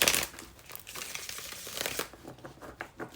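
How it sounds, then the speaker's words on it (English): Tarot cards are shuffled by hand, a close, papery riffle and crinkle that is loudest at the start and then continues as softer irregular rustling and flicks. "I just want to shuffle it once."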